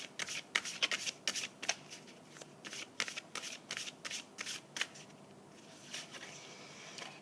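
Tarot cards are shuffled by hand in a quick run of crisp riffling bursts, close and fairly quiet, with no talking over them.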